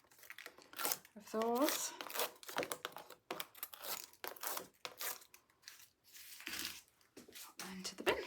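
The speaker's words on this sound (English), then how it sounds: "Peel off all the backs" Backing papers peeled from card-making pieces for a Santa's boots card, giving repeated crinkly, papery rips and rustles close by, mixed with brief speech.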